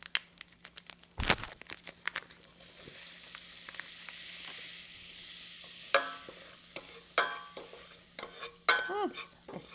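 Butter melting with a 1 to 1.3 ounce packet of taco seasoning in a pan gives off a faint, sparse sizzle, with scattered crackles, pops and a few sharper clicks of stirring, and no talking.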